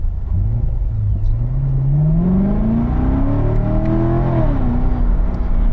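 A car in drive, set to sporty mode, accelerates close by. The engine note climbs steadily, drops briefly at a gear change, then rises again under a constant low road rumble, with no talking.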